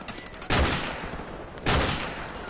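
Two loud bursts of gunfire from the Call of Duty 4 video game, each a sharp blast that trails off, about a second apart, with no voices.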